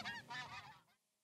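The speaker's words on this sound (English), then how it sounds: "These precious wetlands provide winter habitat for more than 10 million ducks and geese annually" Several geese honk loudly in a wetland waterfowl habitat, a cluster of overlapping calls that fades out after about a second.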